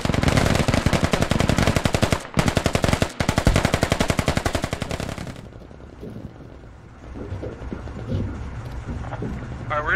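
Machine gun fire in a video game, rapid sustained bursts of loud shots with two brief gaps, then the firing stops and a lower rumbling background remains.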